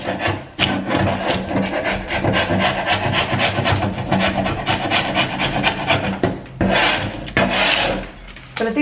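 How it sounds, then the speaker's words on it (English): Sharp chisel scraping paint off hardwood, repeated rough rasping strokes up close in a quick steady rhythm, with a few brief pauses between runs. "Turns out a really sharp chisel can do better than a putty knife and heat gun in some cases."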